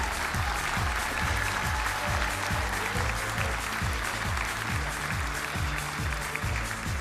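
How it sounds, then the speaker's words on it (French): A hall audience at a Cassel Harmony event gives the president, Nathalie, a steady, dense round of applause that holds at full strength throughout, with a regular pulsing low tone running beneath it. "Applaudissements pour la présidente."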